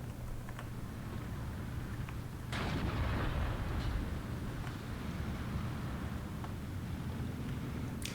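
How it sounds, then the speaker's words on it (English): Howitzer artillery in a World War II real-time strategy game fires one sharp, distant-sounding boom that rolls into a low rumble, set against a faint, steady background of battle noise. "Only one obusier is left. Unfortunately, shooting at nothing."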